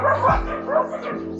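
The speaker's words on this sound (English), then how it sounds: "And the dogs are noisy outside." Dogs barking outdoors, heard through a window during indoor succulent repotting; a short run of barks and yips at moderate distance over room noise.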